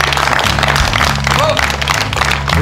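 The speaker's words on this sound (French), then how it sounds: "il n'aura pas droit aux applaudissements, mais je pense qu'on peut le faire maintenant" Applause from the audience at the final of the French FFPS lure trout fishing championship, dense steady clapping over a low musical drone, with a voice faintly present underneath.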